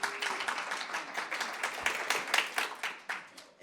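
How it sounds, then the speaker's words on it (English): Scattered clapping from a few hands in a meeting room audience, fairly quiet and irregular, continuing for several seconds. "did I hear somebody clap out there?"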